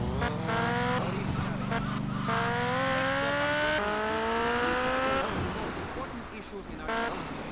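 A motorcycle ridden in the video game GTA Vice City: a loud engine revving up through repeated rising gear pitches with tire noise, while someone talks over it.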